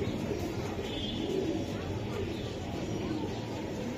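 Lal Patti pigeons coo softly and repeatedly, close by, over a steady noisy background with people talking nearby.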